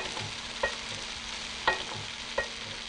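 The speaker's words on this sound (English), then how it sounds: "Now the leeks are soft, we put in some bean sprouts. And then the prawns and the noodles." Prawns, noodles, leeks and bean sprouts stir-fried in a pan, with a soft steady sizzle under three light clicks as the food is tossed and stirred.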